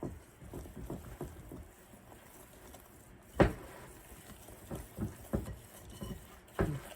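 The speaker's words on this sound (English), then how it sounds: "We're going to whisk this together." A whisk scrapes and taps through dry baking ingredients in a large bowl for a cinnamon swirl quick bread, giving irregular soft strokes with a few sharper knocks against the bowl, close and alone.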